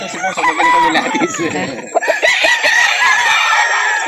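Chickens and roosters at a farm in Calauan, Laguna, crowing and clucking loudly and close by, several birds overlapping in a dense, continuous chorus.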